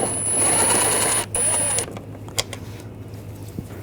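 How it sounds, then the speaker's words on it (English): Screws being backed out with a T25 socket on a power driver while replacing the A/C condenser cooling fan on a 2008-2012 Jeep Liberty 3.7L V6, a loud close whir that briefly pauses, then stops, followed by light clicks and handling noise. "I'll take these screws out. Use a T25 socket."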